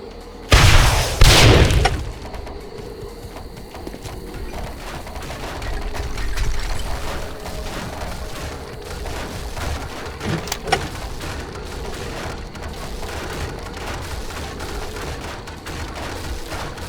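A block building in the video game 7 Days to Die collapses with a loud crashing boom and a rumble of falling debris. Quieter rattling and scattered settling thuds follow.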